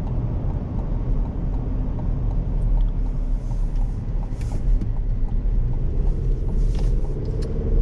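A 2024 Chevy Colorado Trail Boss mid-sized truck drives on the road, a steady loud low rumble of engine and tire noise continuing without break as it turns right, with no talking.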